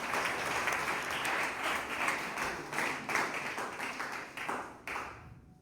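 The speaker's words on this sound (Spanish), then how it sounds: "No ofrenda palmas al Señor con todo el corazón." A church congregation clapping together in praise, a dense, rhythmic burst of many hands that pulses steadily, loud and close, before trailing off abruptly at the end.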